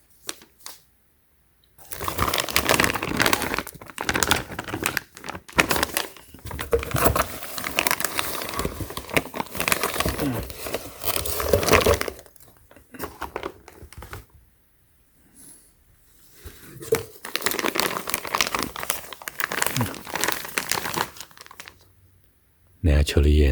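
A 4-pound bulk bag of matcha Shizuoka latte powder mix crinkles and rustles loudly up close as it is handled, in long bursts separated by quiet pauses.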